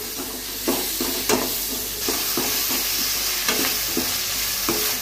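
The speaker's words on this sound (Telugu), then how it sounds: "హై ఫ్లేమ్లో పెట్టి మిక్స్ చేయాలి." Vegetables for street-style veg noodles stir-fried over a high flame with sauces, a continuous sizzle broken by rhythmic scraping knocks of a spatula against the pan, close and loud.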